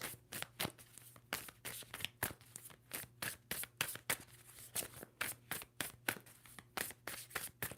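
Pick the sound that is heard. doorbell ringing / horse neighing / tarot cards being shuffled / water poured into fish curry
tarot cards being shuffled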